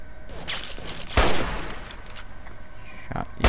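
Several hunting rifle shots in Fallout 3, one louder burst near the middle and more reports spaced out afterward over a steady game background.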